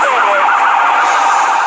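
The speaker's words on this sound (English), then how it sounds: "when the lawman activates his siren" A loud, wailing police car siren sweeps up and down continuously, close and steady, with no voices over it.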